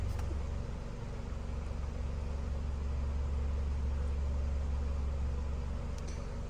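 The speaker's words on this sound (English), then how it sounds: "So engine running." A Land Rover Discovery Sport with a NOx sensor fault idles steadily at close range, a constant low engine drone with no change in pace and no voices.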